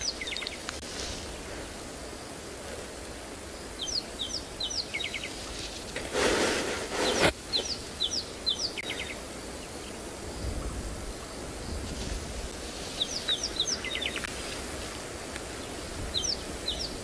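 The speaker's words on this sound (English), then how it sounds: "So look at our male redback shrike." A male red-backed shrike calls in the open bush of the greater Kruger area at sunset, giving short, sharp repeated notes in scattered bursts over a steady hiss of insects and rustling, with one louder broadband rustle midway.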